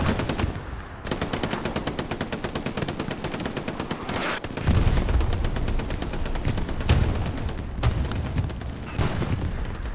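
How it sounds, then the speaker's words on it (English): Sustained machine gun fire in the Hell Let Loose World War II shooter, Omaha Beach map, with dense rapid bursts rattling continuously over booms and distant battlefield gunfire, loud and steady throughout. "MG support from Yaramari."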